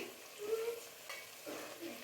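Spices fry in hot oil for a sea crab masala as turmeric powder is stirred in, giving a faint, low sizzle with a few soft stirring scrapes and no voices.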